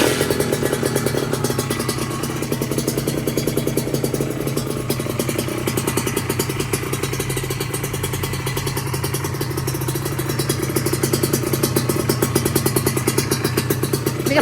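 A Kawasaki Ninja SSR 150 two-stroke motorcycle with an RS1 racing exhaust chamber idles close by, a raspy, rapidly pulsing engine note that stays steady throughout.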